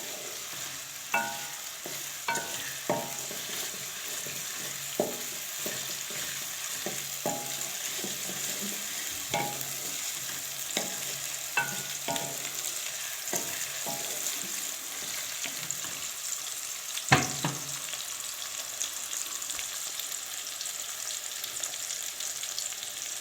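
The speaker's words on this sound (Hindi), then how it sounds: "ये 2-3 मिनट तक हमने इन प्याज़ों को फ्राई करना है।" Onions fry in hot oil with a steady soft sizzle, broken by a series of sharp scraping and tapping stirs spaced irregularly, and no speech.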